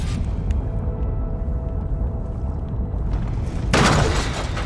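A ballista firing in the video game Horizon Forbidden West gives one loud, sharp launch near the end, standing out over a steady low game rumble.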